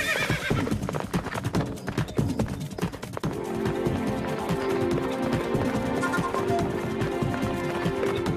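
Horses in a cartoon gallop with steady, dense clip-clop hoofbeats, and a loud neigh rings out partway through, close and continuous over a busy backdrop.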